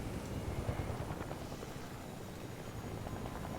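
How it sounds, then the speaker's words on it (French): A helicopter in the video game Fortnite drones steadily, its dense rotor and engine roar holding at an even, fairly loud level throughout. "On va prendre l'hélico pour pas se faire toucher par la zone."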